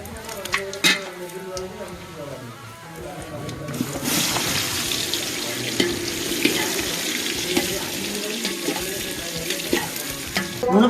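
Onions fry in an outdoor pot for a village-style chicken curry. A quieter hiss breaks into loud, sustained sizzling as the onions go in, with stirring noises and people talking nearby.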